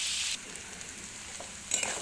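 Chicken pieces fry lightly in oil for chili chicken with a bright sizzling hiss, loud at first, then dropping to a softer crackle before flaring up again near the end.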